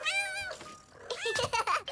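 A cartoon cat gives two clear, close meows, a drawn-out wavering one followed by a shorter, brighter cry, with a brief spoken bit in between.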